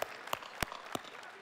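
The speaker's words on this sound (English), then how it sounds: "let's clap a little bit louder for these guys" Scattered claps from an audience at a Final Fantasy XIV esports regional championship event at Fanfest in Paris, a few sharp separate hand claps standing out over a faint crowd murmur.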